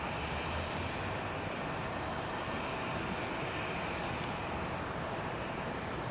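Airbus airliner arriving on runway 27R at London Heathrow Airport, a steady broadband roar of aircraft engines from a fixed spot, continuous and moderately loud with no talking.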